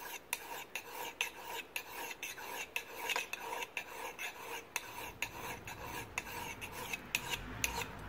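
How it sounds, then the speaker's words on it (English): A steel file rasping back and forth over an axe head, thinning the cheek, in a steady run of close, gritty strokes heard alone. "That goes for filing back into the cheek here and thinning it out again."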